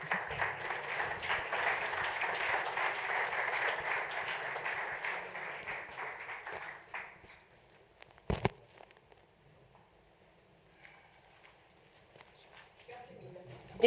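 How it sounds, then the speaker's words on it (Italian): Applause from a conference audience, steady clapping that fades out after several seconds, followed by quiet room noise and a single thump. "Per favore, un bel applauso per Sabina."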